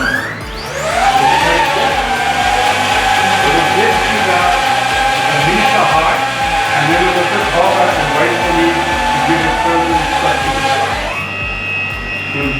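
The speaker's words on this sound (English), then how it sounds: "You wait for the propellers to turn where you hear it as if they running at full speed" A DJI-style drone's propellers spin up at takeoff: a whine rises quickly in pitch, then holds as a loud, steady, close buzzing drone with harmonic tones for about ten seconds before cutting off abruptly.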